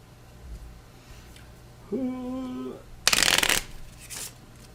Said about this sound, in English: So now let's I'll relax and shuffle this again.